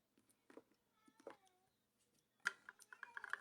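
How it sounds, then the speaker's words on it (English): A pet cat calling out indoors, faint short meows spread across a quiet room with a few soft clicks and taps. "that's my cat, if you hear him in the background"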